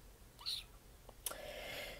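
A cat gives a short, high meow, followed by a faint rustle and a brief hiss of movement in a quiet room.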